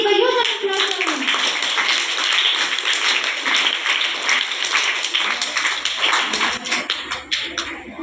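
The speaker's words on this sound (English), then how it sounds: "Please give a huge round of applause for him." Audience at a high school student session bursts into sustained, dense applause, many hands clapping steadily for several seconds before it begins to thin out toward the end.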